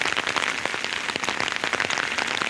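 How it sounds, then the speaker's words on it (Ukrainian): Rain falls steadily in a pine forest during mushroom picking, a dense, even patter on leaves and ground with scattered sharper drips, close and continuous. "Дощик продовжується."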